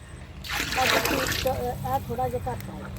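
Water is poured and splashes into a large cooking pot (degh) being filled with about 15 kilos of water for Muharram niaz, a steady sloshing pour heard close up while someone talks over it.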